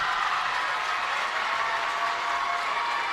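High school basketball crowd with the student section vocal for the Patriots, a steady roar of cheering and clapping that stays loud and even throughout, no distinct voices standing out.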